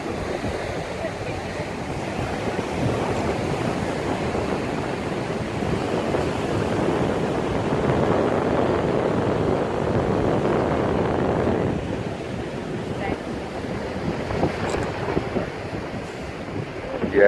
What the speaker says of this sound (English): On the beach.